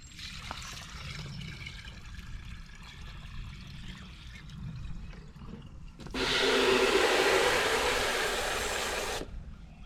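Homemade grass tea lawn fertilizer, diluted about half and half with water, poured into a pump sprayer: a quiet trickle at first, then a loud, steady gush of liquid for about three seconds that stops abruptly.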